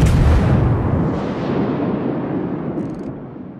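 A battleship's main guns fire a salvo in World of Warships, firing the Soviet premium battleship Oktyabrskaya Revolutsiya: a loud, close boom that rolls into a long, gradually fading rumble with no voices.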